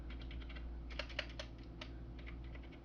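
Keys tap on a Xiaomi YueMi MK02S mechanical keyboard with an aluminum case, a quick run of light, fairly quiet clicks in irregular bursts over a steady low hum.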